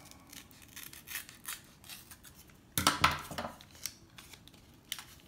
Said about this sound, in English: going to have to cut it with scissors